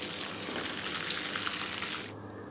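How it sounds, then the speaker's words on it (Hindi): Five dried red chillies sizzle in hot butter for a tadka, a loud, steady crackling fry that cuts off abruptly near the end, leaving a quieter hiss. "अब मैं इसमें डाल रही हूँ सूखी सुरख मिर्चें 5 अदद।"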